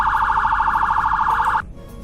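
A sheriff patrol car's third siren tone in Roblox Greenville sounds as a rapid, steady warbling yelp, loud and close, that stops abruptly near the end.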